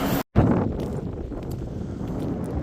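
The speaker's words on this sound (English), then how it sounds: "It's windy." Wind blowing outdoors on a muddy farm beside a parked truck, a steady broadband rush with gusty buffeting on the microphone, briefly cut off near the start.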